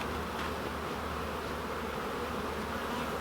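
Honey bees hum in a dense, continuous buzz around the hive during a hive split, loud and steady throughout with no voices.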